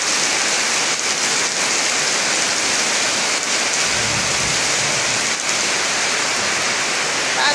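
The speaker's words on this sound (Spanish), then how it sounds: "Tronando." Heavy rain pours steadily and loudly throughout, and a faint, low rumble of thunder swells briefly in the middle beneath the dense hiss of the downpour.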